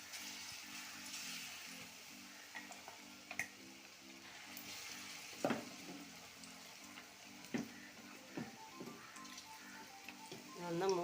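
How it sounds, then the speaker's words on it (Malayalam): Peanut masala frying in hot oil in a pan, a quiet steady sizzle with occasional soft stirring knocks, under a low rhythmic ticking hum in the background. "അതിലേക്ക് ഓയിൽ ഒഴിച്ചു കൊടുത്ത് ചൂടായി വന്നിട്ടുണ്ട്. നമുക്കിനി കപ്പലണ്ടി മസാല ഇട്ട് കൊടുക്കാം."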